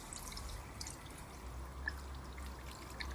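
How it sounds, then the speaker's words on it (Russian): Water is poured to rinse carbon-soaked engine parts from a Lexus RX 300 during a valve stem seal job, a faint steady splashing trickle with low background rumble. "Потом водой смываем это"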